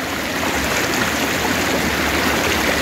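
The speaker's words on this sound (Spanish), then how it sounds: "Miren la abundante agua que hay acá" Abundant water rushes down a stream in a ravine, a steady, dense and fairly loud wash of flowing water with no pause or voices.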